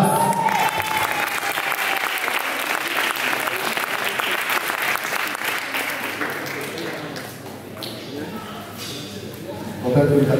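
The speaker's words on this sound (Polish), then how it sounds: "Brawa jeszcze raz." An audience applauds a fourth-place finisher at a competition event, the clapping loud and sustained at first, easing a little, then swelling again at the end, with some talk mixed in.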